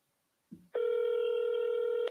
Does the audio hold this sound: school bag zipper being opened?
no